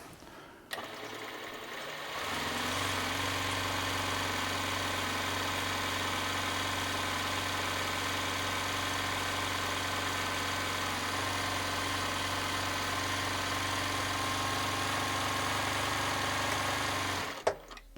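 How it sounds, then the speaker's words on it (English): A Zoje ZJ0303L heavy-duty walking-foot industrial sewing machine winds a bobbin: a steady, even motor whir starts after a brief pause, runs continuously for about fifteen seconds, then stops with a click. "Bobbin winder automatically clicks off when the bobbins fall there"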